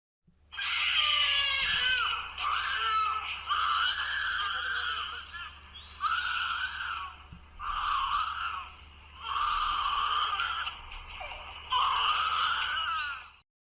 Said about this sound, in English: we hear this very high-pitched screaming sound. And it really does sound weird. It sounds almost human.